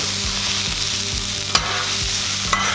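Potatoes for a breakfast hash sizzle loudly on a Blackstone griddle while a spatula stirs and scrapes them in a steady rhythm, with a couple of sharp metallic taps, close up and without voices.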